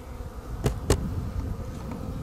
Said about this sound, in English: there's also definitely uh, alive bees crawling around in here